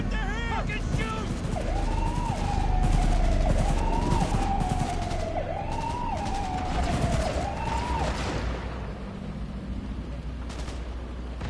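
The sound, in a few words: gunfire in Cyberpunk 2077 video game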